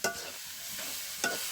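Chepa shutki, dried fish, frying in a pan in a village kitchen as it is stirred continuously, giving a steady soft sizzle with two brief scraping strokes, one at the start and one near the end.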